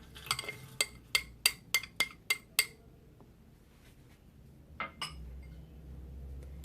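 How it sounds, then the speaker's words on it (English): Sugar poured into one corner of a Hamilton Beach breadmaker pan gives a run of about seven sharp, evenly spaced clinks, then a pause and a couple of softer taps over low background hum. "So I'm just going to add the sugar to one side."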